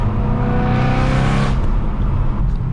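A BMW M3 with its exhaust valves open roars loudly and close, the engine note climbing under acceleration and then dropping away abruptly as it backs off.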